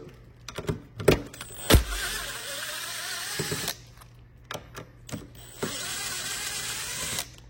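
A 5 mm socket loosens the handlebar nuts on an Ego MB1000, giving quiet, close mechanical clicks and short whirring bursts separated by pauses, with a few sharper knocks and no talking.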